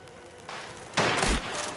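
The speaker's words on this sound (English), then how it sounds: "Trying to shoot quickly to avoid being shot ourselves when we pop up." Gunfire in Mafia: The Old Country, a broadband burst of shots in a firefight, loud and close, with a sharper blast near the middle and rumbling noise continuing after.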